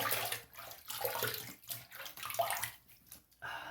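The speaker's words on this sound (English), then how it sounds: "What I'm gonna do here is I'm gonna wet the face first." Water splashing from a running tap or basin as a face is wetted before shaving, an uneven series of close, bursty splashes and trickles with short pauses between handfuls.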